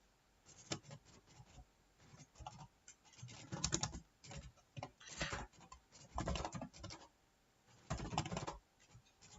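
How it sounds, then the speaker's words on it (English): Code is typed on a computer keyboard in uneven bursts of soft, close key clicks separated by short pauses. "Let me type some piece of code"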